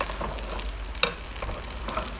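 Malaysian nasi goreng ayam frying in a pan, a steady close sizzle with faint clicks and one sharper tick partway through, no voices.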